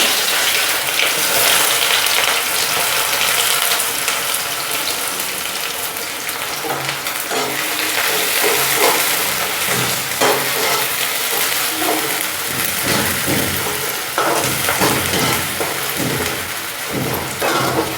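Onions fry loudly in a pan for chicken curry, a dense, constant hissing sizzle that runs unbroken throughout with faint intermittent stirring knocks and no speech.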